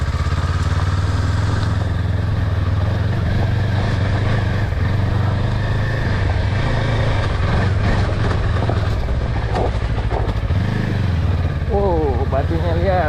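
A Kawasaki KLE 500 dual-purpose motorcycle rides offroad on a dirty old road at a closed stone quarry, its engine droning steadily and loudly throughout while a rider talks over it.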